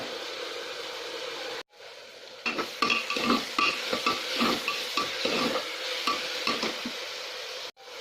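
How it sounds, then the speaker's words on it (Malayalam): Crushed ginger, garlic and green chilli hit hot oil in a pan with a steady sizzle, broken by a brief gap, then a spoon clinks and scrapes rhythmically as the mixture is stirred, close and fairly loud. "ഇനി ഇതിലേക്ക് ആ ചതച്ചെടുത്ത ഇഞ്ചി വെളുത്തുള്ളി പച്ചമുളകും ഇട്ട് കൊടുക്കാം"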